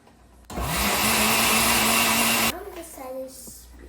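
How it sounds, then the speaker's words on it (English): A blender whirs loudly as it blends garlic and leeks, a steady high motor whine running for about two seconds before cutting off, followed by a faint voice. "Now let's blend it."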